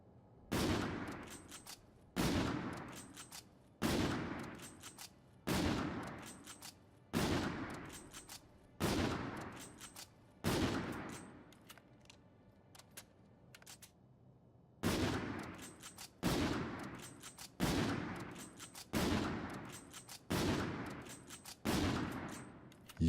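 KBS Harbinger gun in a video game firing in an even, repeated series of loud, close shots, a pause breaking the rhythm midway before the shots resume at the same pace.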